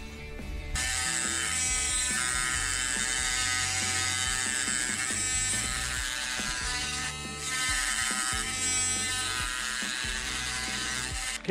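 A handheld rotary grinder smoothing the port of a Predator 212 engine head: a steady high-pitched whine with a rough, chattering grind, close and loud, dropping out for a moment partway through before resuming.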